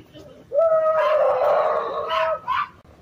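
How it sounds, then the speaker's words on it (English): A dog howls in a long, wavering, close-up cry with a couple of shorter rising yelps after it, and faint background sound beneath. "I need another Cyrax howl"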